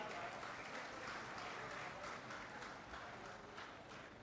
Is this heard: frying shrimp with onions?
no